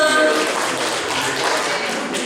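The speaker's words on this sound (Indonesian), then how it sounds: "tepuk tangan untuk kita semua" Steady applause from a gathered audience at a school digital-learning event, a dense sustained patter of many hands, fairly close and even throughout, with voices mixed faintly underneath.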